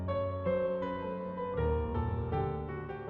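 AI-generated film music accompaniment built around an input melody plays steadily with shifting chords and clear note changes. It runs alone at a moderate level, with no voices.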